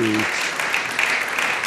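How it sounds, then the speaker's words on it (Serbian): A TV studio audience breaks into lively applause for a singer's arrival, dense clapping that follows the last tail of a voice and carries on alone. "jedan veliki aplauz"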